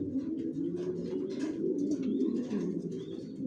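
Racer pigeons, including Maxi racer babies, coo softly and continuously inside a loft, their low burbling calls overlapping in a close, quiet, steady murmur with no talking.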